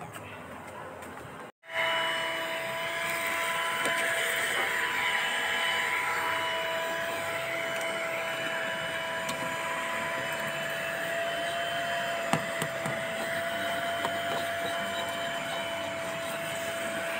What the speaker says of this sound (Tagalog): Kasi ibabacuum din natin.